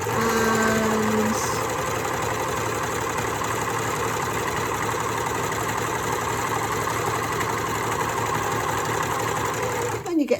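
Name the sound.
Janome 6234 XL overlocker sewing fabric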